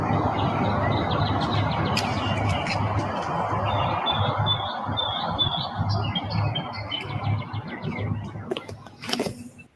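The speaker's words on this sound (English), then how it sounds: "this was late at night, you could hear the birds chirping." Many birds chirp and tweet late at night in overlapping, busy calls over a low rumbling background, with sharper squawks toward the end.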